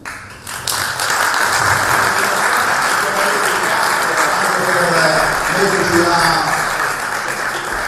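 Sustained applause from a crowd at a Sardinian cycling awards celebration for two riders, steady and fairly close, keeping an even level for several seconds with scattered individual claps.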